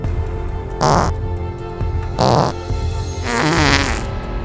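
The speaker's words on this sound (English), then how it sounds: "fart 100 times" Loud, close fart sounds in a cartoon comedy character compilation, three drawn-out raspy blasts a second or so apart, the last one longest and wavering, over a steady background hum with no talking.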